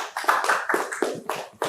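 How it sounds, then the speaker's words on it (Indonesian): A classroom of students claps briefly for a classmate, a sparse, uneven patter of individual hand claps close by, lasting under two seconds. "Tepuk tangan dulu untuk Berta."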